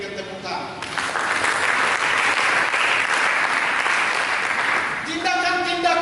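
A talking voice gives way to a burst of congregational applause in a church, thick steady clapping lasting several seconds before speech resumes on top of it.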